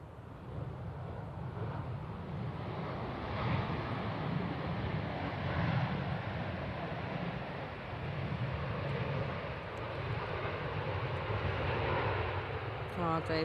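A C-17 military transport aircraft landing at Manchester Airport, heard as a steady, broad roar of engine and rushing air with some wind noise throughout, moderately distant and fairly even in level.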